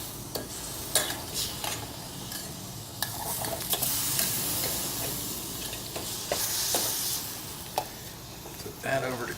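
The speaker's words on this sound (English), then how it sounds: "And we want that to start to caramelize onto the Spam." Spam glazed with soy sauce and sugar fries in a pan at a canteen-cup camp cookout, a steady close sizzle broken by repeated sharp utensil clicks and scrapes as it is stirred, with a voice talking at times.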